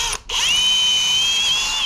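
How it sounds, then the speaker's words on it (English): A power drill bores bolt holes in a part during a pit bike restoration, its steady high whine running close and loud for nearly two seconds after a brief pause at the start. "I'm gonna have to drill this out to accept the bolts"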